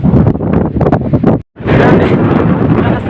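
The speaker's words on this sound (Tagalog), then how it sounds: "Lakas ng hangin." Strong wind gusts on an island at Fortune Island roar across the microphone in loud bursts, cutting out briefly midway before returning as a dense, continuous rush.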